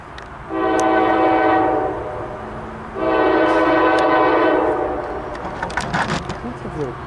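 A CSX freight train, symbol Q301, sounds two long, loud horn blasts, each about two seconds, followed by rumbling and clatter from the passing cars.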